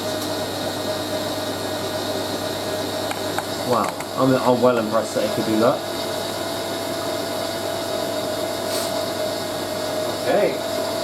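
A Hoover A3060 Electronic 1100 washing machine runs a smooth spin cycle, a steady whirring hum that continues under a person's brief spoken remark.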